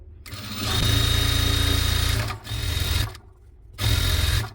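A sewing machine stitches a churidar hem in loud, close, steady runs of rapid motor whirring, stopping briefly and starting again, with no voices.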